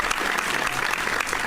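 A studio audience at a Filipino radio broadcast keeps up steady, even applause, a dense wash of many hands clapping close by with no break.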